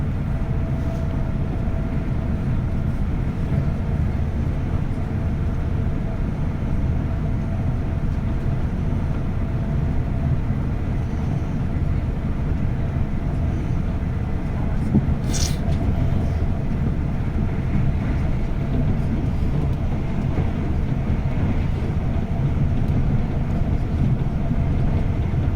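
An Avanti West Coast Evero train runs at speed, a steady, continuous low rumble and rolling hum heard from inside, with one brief sharp click partway through and no talk.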